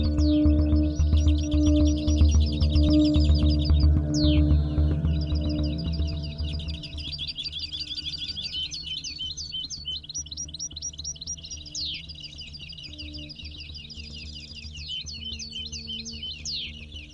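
European greenfinches call and twitter continuously in dense, overlapping trills and chirps during a bird-catching outing near Matalascañas, with a steady low hum underneath.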